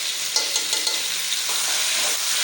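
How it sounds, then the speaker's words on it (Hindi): Chicken sizzles and fries steadily in hot oil with onion and garlic-ginger paste, a dense continuous crackle with faint stirring scrapes, close and alone without voices. "चिकन को पकाएंगे, अच्छे से पकाएंगे ऑयल और प्याज में"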